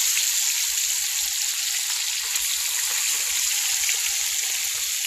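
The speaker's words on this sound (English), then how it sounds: "So we start by frying the chicken." Chicken pieces fry in palm oil in a pan, giving a steady, even sizzle with faint crackles throughout, close by and uninterrupted.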